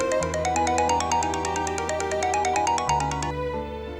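A mobile phone plays a melodic electronic ringtone for an incoming call, a repeating tune with a quick pulsing rhythm, clear and close, ending abruptly.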